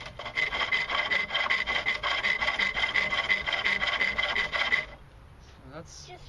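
A rasp scrapes wood to round it during workbench building, producing a steady rhythmic rubbing of quick back-and-forth strokes, close and loud, for about five seconds before stopping and leaving faint room sound.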